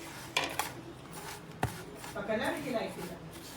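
Sugar, cardamom and nutmeg powder and dry fruits for a karanji filling are stirred together in a bowl, giving a few sharp spoon clinks and soft scraping, with someone speaking over the later part.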